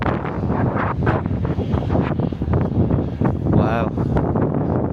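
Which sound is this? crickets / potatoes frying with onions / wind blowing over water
wind blowing over water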